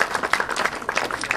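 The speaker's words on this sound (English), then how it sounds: "If we can give them a round of applause" Applause from the crowd at the reopening of the historic San Elizario Jail, a steady dense patter of clapping hands with a few sharper peaks, fairly close and continuous throughout.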